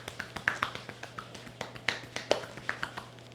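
Rhythmic pounding strikes with the side of the hand during a Swedish massage, about a dozen quick soft thuds in an even pattern, close and fairly quiet, no talk.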